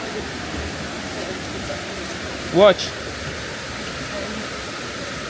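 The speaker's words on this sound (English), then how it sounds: "So we are at the waterfall now, and it's 250 steps to the waterfall, and we are there now." Rushing water at Boti Waterfall in Ghana makes a constant broadband roar throughout, with a brief spoken word near the middle.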